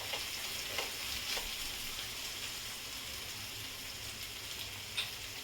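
Onion and drumstick pieces frying with turmeric in a pan for drumstick kadhi, an even, rain-like sizzle with a few soft stirring knocks, fairly quiet and with no talk.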